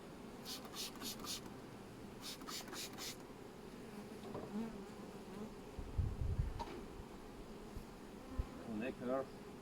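A faint, steady buzzing of many honey bees fills the background at an apiary, with scattered clicks and soft bumps close by.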